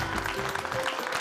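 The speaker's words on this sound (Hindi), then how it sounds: "तालियां" Crowd applause for the winners at a prize event, a brief burst of continuous clapping at moderate volume.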